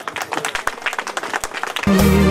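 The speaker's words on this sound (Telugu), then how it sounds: "సో ఇప్పుడు కూడా ఆదినారాయణ గట్టి క్లాప్స్ కొడదాం" Wedding guests applauding at a ceremony, a loose patter of hand claps for a couple of seconds before music with a sustained tone takes over.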